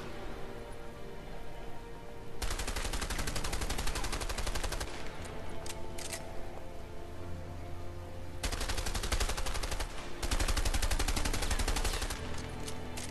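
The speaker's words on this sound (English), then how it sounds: "Why are you still shooting?" Rapid automatic gunfire in the video game A Way Out, loud and close in long sustained bursts with short pauses between them.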